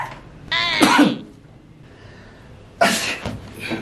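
Two harsh, throaty coughing bursts from a person, loud and close, separated by a short quiet pause.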